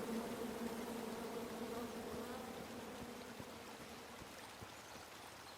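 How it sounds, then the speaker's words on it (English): Bees buzz in the King's Quest video game, a steady, faint droning hum that holds throughout with no voices over it. "Come at me, bees!"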